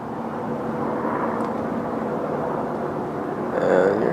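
Helicopter flying overhead outdoors, a steady broadband rotor and engine rumble that holds throughout and swells slightly louder near the end, with no talking.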